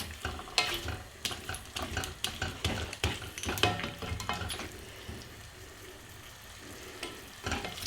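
Bombay potatoes sizzle in a pan while a utensil scrapes and stirs in bursts, clattering against the metal, then the frying continues more quietly.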